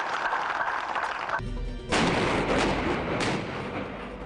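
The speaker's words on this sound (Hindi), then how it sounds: "एक के बाद एक गोले दागे।" Artillery shells fired one after another in the Kargil war, loud booming blasts and rumbling impacts overlapping in quick succession, dense and continuous throughout.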